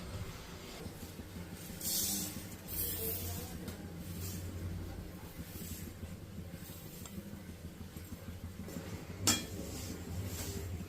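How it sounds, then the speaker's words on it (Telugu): Fenugreek and fennel seeds being dry roasted in a pan, with a continuous rustling, scraping stir and occasional metallic clinks of a spoon against the pan. "మెంతులు యాభై గ్రాములు వంద గ్రాముల సోంపు ఇలా మెజర్ చేసిన ఇవన్నిటిని ఫస్ట్ డ్రై రోస్ట్ చేసుకుందాం"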